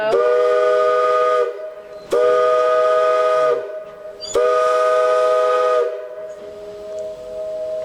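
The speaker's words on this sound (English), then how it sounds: "They say that whistle can be heard as far away as 10 miles." A narrow-gauge steam train whistle on the Cripple Creek & Victor Railroad sounds three long, loud blasts with short gaps between them, followed by fading hiss and echo.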